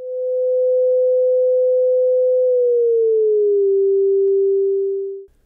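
An animated moving source emits a steady pure tone near 389 Hz that holds, then glides smoothly down to a lower pitch as it passes, loud and continuous for about five seconds before cutting off.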